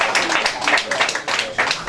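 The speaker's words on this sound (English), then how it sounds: "This is a round of applause for me." A crowd applauds at a children's robotics competition finale, a steady wash of clapping with voices mingled underneath.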